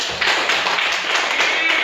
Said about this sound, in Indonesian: kita tepuk tangan dulu untuk kelompok Hamzah Radit